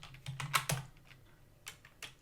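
Someone types on a computer keyboard in irregular bursts of sharp key clicks, close and fairly quiet, with short pauses between clusters of keystrokes.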